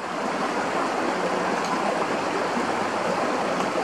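Water gushes steadily through a gravity-fed pipe that lifts it uphill without electricity or fuel. The rushing, hissing flow sounds close and constant, with no voices.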